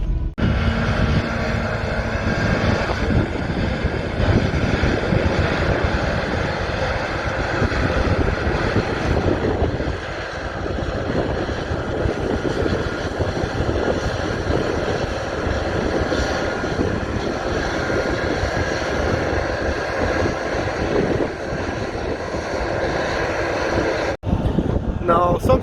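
A combine harvester runs steadily in a field during harvest, a loud continuous engine drone with wind across the microphone and a brief dip near the end, while a voice talks over it.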